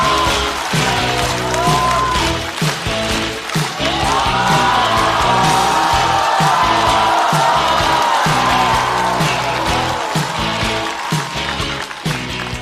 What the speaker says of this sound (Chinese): 掌声有请非常会上班的 Seven